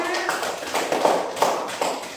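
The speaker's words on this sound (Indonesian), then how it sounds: "Beri tepuk tangan dulu kelompok B, nak" Children in a classroom clap for group B, a short scattered round of hand claps with a few sharper accents, close and moderately loud.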